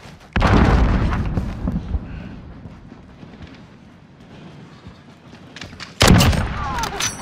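A grenade explodes in Call of Duty with a loud, close boom, followed by a fading rumble and a second sharp blast a few seconds later.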